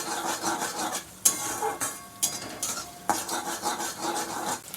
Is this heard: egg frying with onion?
yes